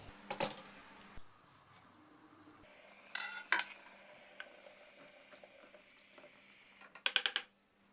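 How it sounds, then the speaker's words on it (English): Figs boiled in a pot being stirred and strained into a fermenter, heard as scattered metallic clinks and scrapes of utensils against the pot, with sharper bursts of clatter near the start and the end over a quiet background. "We stir very well and we filter directly in the fermenter."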